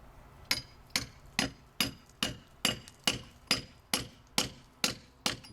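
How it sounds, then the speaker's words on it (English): Steady hammer blows strike a chisel while old air vent material is chipped out beneath a floor, about a dozen sharp, evenly spaced metallic impacts ringing close and loud with no talking. "If you want to start chiseling"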